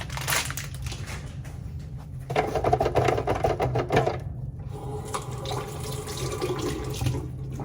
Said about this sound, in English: before we enter the unit, we have to scrub for 2 minutes